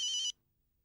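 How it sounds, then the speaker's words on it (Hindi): A telephone rings indoors in a household scene, one short electronic trill of rapid pulses that cuts off abruptly, leaving near silence. "फोन आया है"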